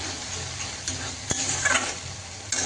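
Spice paste frying in oil for a vegetarian potato curry, a steady soft sizzle with a few sharp spoon scrapes and clicks against the pan, close and alone without talk.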